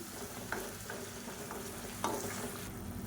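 Tomato cashew paste frying in oil in a pan, with a soft continuous sizzle and several distinct scraping stirs of a spoon, quiet and close.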